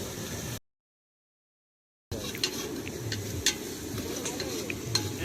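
Chicken frying and being stirred in a pan while cooking at a New Year's Day picnic, a steady close sizzle with scraping and clinks of a utensil against the pan, cut by a brief gap of silence.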